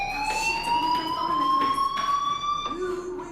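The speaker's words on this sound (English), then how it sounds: "do you hear that fire alarm? That means you should be outside." Fire alarm in the video game Life is Strange, a loud continuous electronic tone that holds steady and slowly rises in pitch, with a voice speaking under it.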